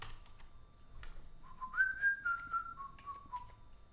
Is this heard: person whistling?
yes